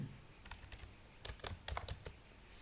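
Soft, fairly faint typing on a computer keyboard while entering text in MS Word, with irregular clusters of key clicks over a low background hiss.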